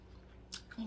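Someone chews corn during a seafood boil mukbang, with close, wet, crunchy bites that come up briefly and sharply after a quiet start.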